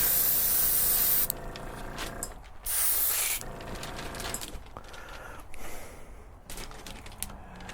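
An airbrush or spray can lays a light gold dust coat on the upper saucer of a 1:350 Enterprise Refit model kit, a steady hiss in short bursts of about a second each, close and fairly loud, with no talking.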